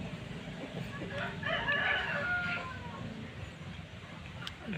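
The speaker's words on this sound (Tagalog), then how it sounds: "pasensya na sa mga manok idol" A rooster crows at a distance over a noisy outdoor background, its call rising and falling across a couple of seconds.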